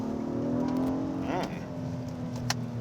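A 2019 Acura TLX with its V6 engine pulling steadily, a continuous engine hum with a brief rising pitch sweep midway, heard from inside or near the car at moderate level.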